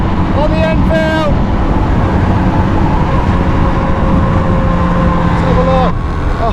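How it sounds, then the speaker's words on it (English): Royal Enfield motorcycle ridden flat out at about 120 km/h on a Himalayan road toward Kargil, a steady loud engine drone with heavy wind roar, passing traffic tones and a horn or siren-like wail briefly heard. "So we are going flat out on the Enfield."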